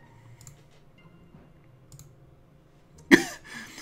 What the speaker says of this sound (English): you may be able to hear me clicking